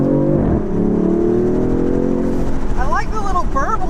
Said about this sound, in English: I like the little burble that you get there on the upshift